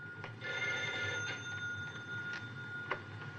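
A telephone bell rings in a scene from Hitchcock's North by Northwest, La Mort aux trousses, in the French version, with repeated ringing bursts at moderate distance over a faint hum and no talk.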